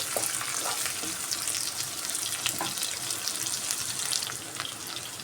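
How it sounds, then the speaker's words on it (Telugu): Thinly sliced red onions fry in a pan, a steady broadband sizzle with faint crackles running throughout at a constant close level, with no voices. "సన్నగా కట్ చేసుకున్న ఎర్రగడ్డలు ఒక రెండు నిమిషాలు వేగనిద్దామండి"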